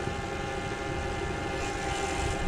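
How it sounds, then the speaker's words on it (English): Loud, steady whine of a Luna mid-drive electric motor on a folding e-bike climbing an 18% grade on throttle alone, a constant tonal hum with wind and road rumble underneath; no talking. "God, the sweet sound of this motor, man."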